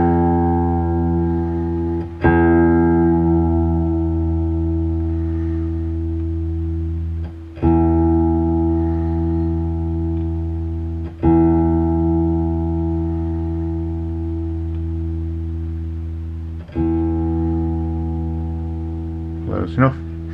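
A single electric guitar string is plucked and left to ring while it is retuned during an intonation setup. A steady, loud pitched tone sustains and slowly fades, and the string is struck again about four times.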